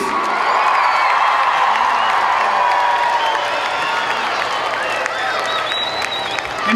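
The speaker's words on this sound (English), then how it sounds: "big round of applause for the elected member of the Legislative Assembly, Mr. Minister Kevin Chief." A lively audience at a Rockin For Choices concert event applauds and cheers for a provincial minister, loud continuous clapping mixed with whoops and crowd noise.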